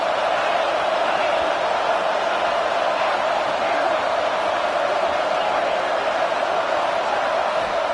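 A football stadium crowd roars in a steady, dense wash of cheering and noise during a game, loud and continuous throughout without letting up.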